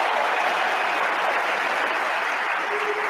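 Steady, dense applause from a large audience after a line of a speech by Javier Milei, a continuous wash of many hands clapping at an even level throughout with no voices over it.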